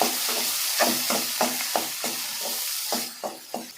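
A potato mixture with chili powder and salt being sautéed in hot oil, a steady sizzle broken by repeated scraping stirs of the spatula at a brisk, regular rhythm, close up with no talking.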